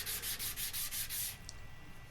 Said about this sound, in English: then I just a very light sanding with some 400 paper to make sure there's no high spots